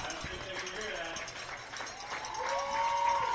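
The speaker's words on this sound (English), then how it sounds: "Crowd starting to show their appreciation." A home crowd at a high school football game between Plainfield and Franklin breaks into scattered clapping and cheers from the stands. The sound swells toward the end, and an announcer speaks over it.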